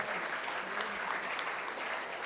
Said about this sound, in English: So this clapping is for all of you teachers